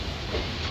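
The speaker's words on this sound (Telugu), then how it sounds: "ట్రైన్ అయితే విజయవాడ స్టేషన్లోకి అయితే వెళ్ళిపోతూ ఉంది." Daily MEMU passenger train rolling into Vijayawada station, a steady low rumble of wheels and carriages, close and continuous for under a second.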